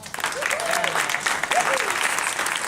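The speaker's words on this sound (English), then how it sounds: "let's give you a round of applause" An audience at a business networking talk claps in a round of applause, moderately loud and close, with a voice audibly speaking or calling out over the clapping.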